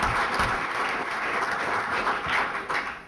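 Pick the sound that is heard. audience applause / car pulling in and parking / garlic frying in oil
audience applause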